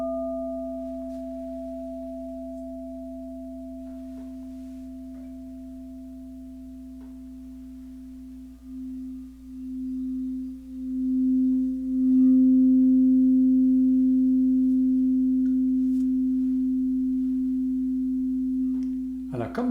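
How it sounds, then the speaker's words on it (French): A crystal singing bowl sounds a long, pure sustained tone after being struck, then the tone pulses and swells as the rim is rubbed, growing stronger and steadier near the end, with no voices over it. "le bol de cristal, on peut le jouer de deux façons, avec un coup frappé ou un coup frotté"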